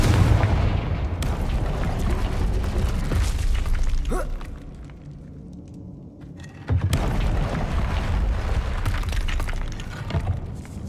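Confringo explosive spell cast in the video game Hogwarts Legacy: loud booming blasts with shattering crackle, a sharp burst near the start, another midway after a quieter lull, then a heavy renewed barrage that rumbles on.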